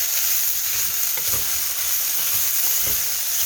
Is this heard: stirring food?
yes